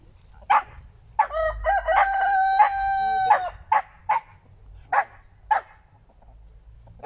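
A rooster gives one long, loud, close crow with a tonal harmonic sweep, set between several short barks from a nearby dog.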